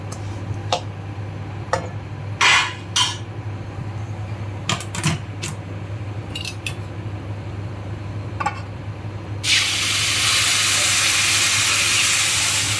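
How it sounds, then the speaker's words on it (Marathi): Boiled water is poured into a pan of roasted upma, producing a loud, sudden, continuous steamy hiss that takes over after a stretch of quiet kitchen clicks and taps over a low hum. "आपण ह्यामध्ये उकळलेलं पाणी टाकणार आहोत"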